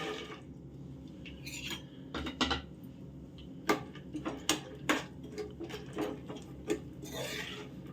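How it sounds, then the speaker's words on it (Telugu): Walnuts, almonds, cashews and raisins fry in hot ghee while a utensil stirs the pan, giving irregular scrapes, clinks and rubbing taps over a low steady background. "నెయ్యి హీట్ అయింది ఇంకా డ్రై ఫ్రూట్ ఫ్రై చేసుకుందాం"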